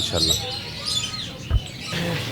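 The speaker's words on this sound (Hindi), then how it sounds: "जी रोज़ी खान, ये जो हम देख रहे हैं कॉकटू, इसके बारे में बताएं।" Parrots chirp and squawk in an exotic parrot shop, with sporadic calls and a brief thump mixed under indistinct voices.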